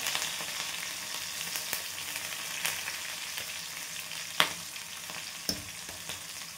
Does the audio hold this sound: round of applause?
no